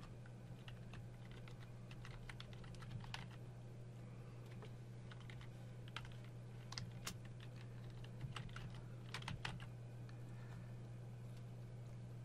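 Rapid tapping on a computer keyboard while an email hyperlink is entered in HTML, with soft, close clicks in uneven bursts over a faint steady hum and no voices.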